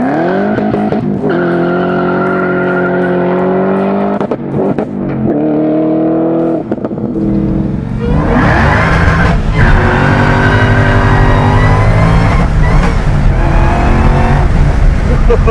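A 755 HP LT5-powered 1979 Camaro Z28 roadster engine revving hard, a loud, close, sustained roar that climbs and surges up against the rev limiter, with a sharper, rasping burst in the second half.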